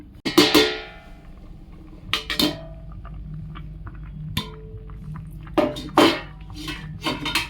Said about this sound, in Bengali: এবার একটা পাত্র দিয়ে ঢাকা দিয়ে দেবো কিছুক্ষণের জন্য।